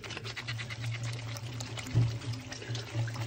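Running water pours over sardines being rinsed in a colander, a close steady splashing gush with a low hum underneath and brief swells where the flow hits the fish.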